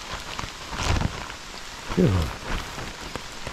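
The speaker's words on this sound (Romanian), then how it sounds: "Iată o ploaie mai gravă, nu?" Heavy rain pours steadily onto the forest canopy and ground during a late-May mushroom-foraging outing. The dense patter is loud and continuous, with a person speaking briefly over it.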